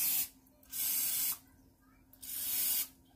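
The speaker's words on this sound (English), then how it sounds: "I'm going to go ahead and spray them." Three short bursts of cooking spray hissing into a muffin pan, each lasting about half a second, separated by quiet pauses, close and fairly loud.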